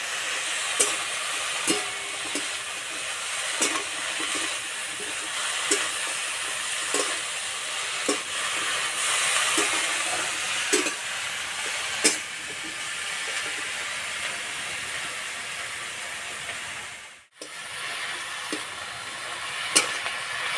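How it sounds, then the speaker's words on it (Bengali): Pumpkin greens lightly frying in a pan, a continuous hiss and sizzle with regular soft stirring taps, near and steady, briefly cut off once toward the end. "শাক হালকা করে একটু ভেজে নিয়েছে"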